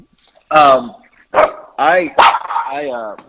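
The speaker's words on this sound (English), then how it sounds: "this dog won't shut up" A dog barks loudly and close by, four or five sharp separate barks with short pauses between them, the last one drawn out into a whining yelp.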